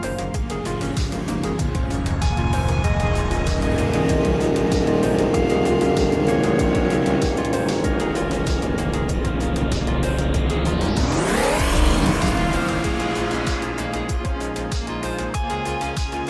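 A Yamaha MT-10 motorcycle rides along a road, its engine droning loud and steady, then rising sharply as the rider accelerates near the end before settling again, no voices.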